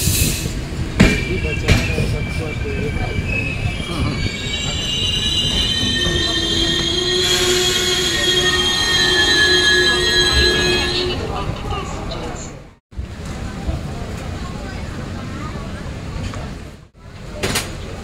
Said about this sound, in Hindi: दोस्तों फाइनली हमारी train Dhanbad Howrah coalfield express train लीलुआ पहुंच चुकी है लीलुआ वर्कशॉप।